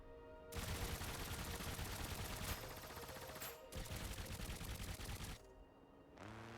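Turret gunfire from a vehicle build in battle mode in the game Trailmakers, a dense, loud, continuous rapid-fire burst that pauses briefly once, then resumes before cutting off.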